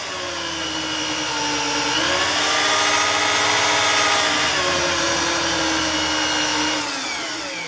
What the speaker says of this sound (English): I'm going to get a bunch of it onto the polishing pad.